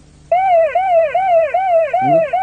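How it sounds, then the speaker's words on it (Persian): A loud, close electronic siren warbles up and down in steady repeating sweeps from a Paykan car's alarm warning it is in gear, with a brief lower tone breaking in near the end. "الان ماشین توی دنده هست، آژیر میزنه"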